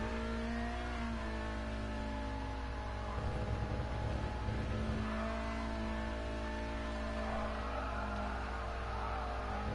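A Ferrari GTO engine drones steadily in Gran Turismo Sport, a sustained, moderately loud motor note with a brief swell of revving and rumble midway.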